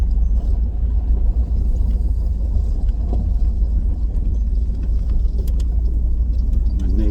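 A 1991 Camaro RS with 55k miles out on a short drive, its engine a steady low rumble with road noise throughout and no talking.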